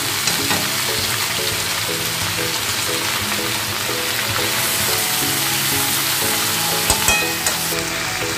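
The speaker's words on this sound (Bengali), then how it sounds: "এবার আমি আদা রসুন কাঁচা লঙ্কা পেস্টটা দিয়ে দিচ্ছি।" Ginger, garlic and green chili paste hits hot oil with fried onions for a Bengali pui saag chorchori, giving a loud, steady sizzle close by with occasional clinks and scrapes of stirring.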